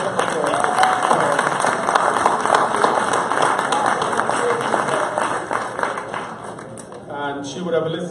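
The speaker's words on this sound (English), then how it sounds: "let's give Risha a round of applause" An audience at a security company's annual chairman's cocktail reception gives a sustained round of applause for Risha Mahabir, a dense roomful of clapping that fades out before a voice speaks.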